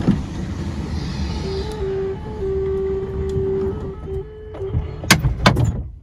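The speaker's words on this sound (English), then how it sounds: "Take another listen to this bizarre Silhouette door closing noise." A steady electronic beeping tone sounds for a couple of seconds over a motor hum as an Oldsmobile Silhouette minivan's power sliding door closes, followed by a few sharp clunks.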